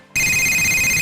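A cell phone rings in the video game Grand Theft Auto IV, a loud, close electronic ringtone that cuts in abruptly after a moment of quiet and holds steady with no voices.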